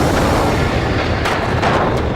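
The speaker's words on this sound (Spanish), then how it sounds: "la isla griega de Santorini experimentó una de las explosiones volcánicas más devastadoras de la historia" A documentary sound effect of the volcanic explosion of Santorini: a loud, continuous deep rumbling roar with heavy low-end energy, punctuated by a few sharper bursts near the end, no voices.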